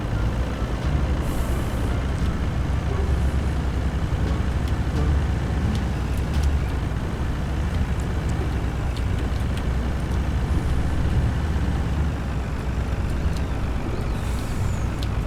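A ten-wheel truck loaded with rubberwood rumbles steadily along in Farming Simulator 19, its deep engine drone constant and close, with occasional faint clicks and hisses riding over the low roar.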